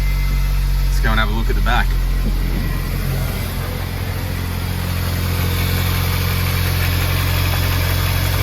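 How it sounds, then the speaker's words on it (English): A 2006 Smart Fortwo 450 engine idles steadily with a low, even rumble throughout after a PCV valve replacement, while someone speaks briefly near the start. "it's not rough idling anymore, which is good"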